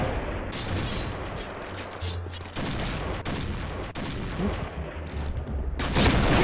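Sniper rifle fire in the Point Blank shooter game, with several sharp, loud shots breaking through dense, continuous gunfire and battle noise across the whole stretch, with a voice faintly underneath.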